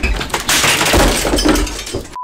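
A keyboard smashed in a gamer's rage quit makes a loud, close burst of cracking, clattering plastic and scattering bits across about two seconds, ending abruptly in a short electronic tone.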